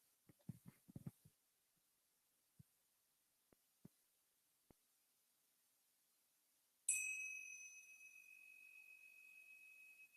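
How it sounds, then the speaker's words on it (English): Single meditation bell tone struck after a near-silent pause, a clear bright ring that sustains and slowly decays, preceded by a few faint soft taps and knocks. "when you hear the sound of the tone or the bell"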